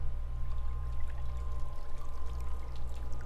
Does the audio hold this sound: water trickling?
yes